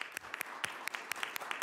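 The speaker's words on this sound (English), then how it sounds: "So we should give you applause here." Scattered applause in a Senate Rules Committee hearing room, a small group clapping with a few distinct, sharp claps standing out over a softer patter, brief and moderately quiet.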